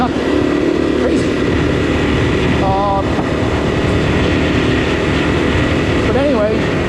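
Kawasaki KLX 300 R trail motorcycle ploughing through sand, its engine droning steadily and loudly throughout with a brief revving pitch sweep near the end.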